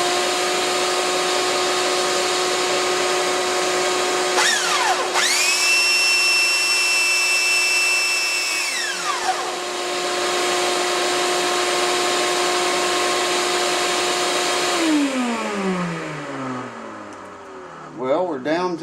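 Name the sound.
vacuum sucking up dust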